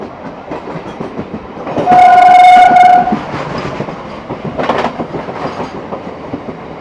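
An EMU electric suburban train out of Howrah runs with a rumbling clatter of wheels on track, then gives one loud sustained horn blast of about a second, and keeps rolling with rhythmic rail clicks afterward.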